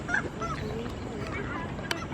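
A bird honks in a goose-like call against a steady outdoor background, a few short honks over the two seconds with no clear speech.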